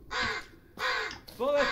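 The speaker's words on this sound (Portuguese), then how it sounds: "Tem um corvo." Three loud, harsh crow caws from the horror video game Blair Witch, each about half a second long and separated by short pauses, heard alone in a dense wooded setting.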